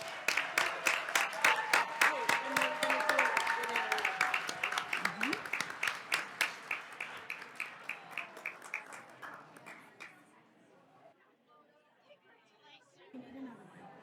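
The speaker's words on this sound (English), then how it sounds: "we'll applaud one more time for all of our new principals" A room at a school district board meeting claps for new principals, steady applause with crowd chatter mixed in, gradually fading over several seconds until scattered claps and voices remain.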